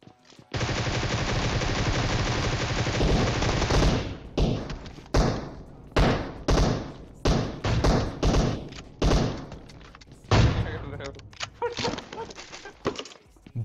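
Weapon fire in the mobile battle royale game PUBG Mobile: a long sustained burst of automatic fire, then a run of loud, evenly spaced single shots with brief gaps, then a few more rapid bursts, close and dominant.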